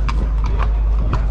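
Horse hooves clip-clop on hard ground at the Appleby Horse Fair, a few loud, close, irregular strikes over a low constant rumble.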